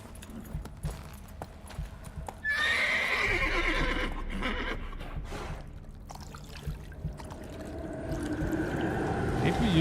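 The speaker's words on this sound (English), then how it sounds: "I think that we could hear the horse be there like..." A horse in the video game The Witcher 3 whinnies loudly in a long, wavering neigh amid hoof clip-clops and outdoor game ambience, with a fainter second whinny near the end.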